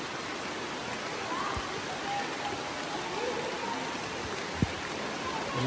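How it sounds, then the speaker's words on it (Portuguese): Heavy rain falls steadily near a tall cliff wall on a cold, wet outing, a dense even hiss with no other clear sounds standing out. "Tá chovendo muito, tá começando a bater o frio."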